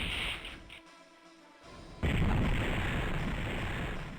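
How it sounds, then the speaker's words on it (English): A large explosion erupts in the space video game Infinite Space, a sudden loud blast after a quieter stretch, followed by a sustained rumbling roar that slowly fades. "Skip to the explosion because the explosion is still good."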